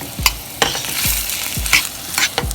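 Hot oil sizzles steadily as corned beef fries in a pan, with several sharp clatters of a utensil stirring and scraping through it.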